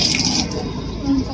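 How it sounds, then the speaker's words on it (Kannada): Water runs steadily from a tap in one continuous close-up stream, with a voice nearby. "ಅಲ್ಲೊತ್ತಿದ್ರೆ ಇಲ್ಲಿ ಬರುತ್ತೆ ನೋಡಿ ಗೈಸ್ ನೀರು"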